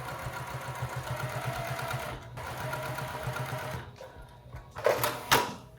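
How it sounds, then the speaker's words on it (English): A sewing machine edge stitches a pocket down onto the front of a lounge pant, running at a steady, rapid, even stitching rhythm for about four seconds before stopping, followed by a few brief handling knocks and rustles. "go ahead and edge stitch that pocket down"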